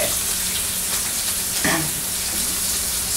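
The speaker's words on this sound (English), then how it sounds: "Stir that all up in the oil and the fat that was rendered off." Ground cumin, onions and garlic frying in oil and rendered fat in a pan, a steady broadband sizzle throughout with a brief stirring scrape midway.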